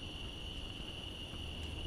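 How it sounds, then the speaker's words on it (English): Crickets, locusts, grasshoppers and cicadas chirp outdoors during a walk in Dallas. Their high drone is steady and faint, with a low wash of background noise underneath and no voices. "It's just locusts, grasshoppers, crickets, and the cicadas."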